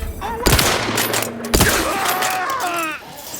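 Gunfire and a grenade blast in The Outer Worlds 2: two sharp, loud explosive bursts a second apart, each trailing rapid shots and rumble, with voices calling out between them.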